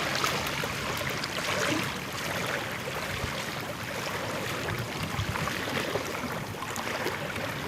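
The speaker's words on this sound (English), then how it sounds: "Not only the lap of the waves," Waves lap at the shore at night, a steady broadband wash of water with soft wind, continuous and moderately faint with no voices.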